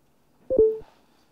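Phone notification sound: a short electronic chime of two quick tones, clear and close in an otherwise quiet room.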